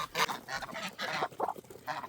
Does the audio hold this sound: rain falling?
no